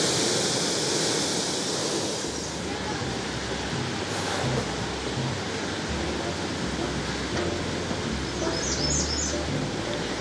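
Tahquamenon Falls in Paradise, Michigan, rushing in a steady, loud broadband roar that holds evenly throughout, with faint bird chirps high above near the end.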